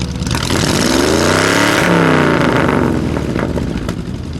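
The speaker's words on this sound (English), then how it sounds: "let's hear the glass packs while we got them" A 1955 Chevrolet Bel Air's V8 engine revs hard and loud through rumbling glass pack mufflers, rising to a roaring peak and then easing back to a burbling idle.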